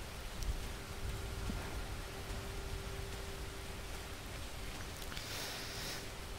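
Steady rain falls in the carnival level of the horror video game Slender: The Arrival, a soft, even hiss with no voices over it.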